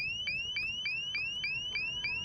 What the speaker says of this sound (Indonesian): apabila mereka mendengar bunyi sebuah alarm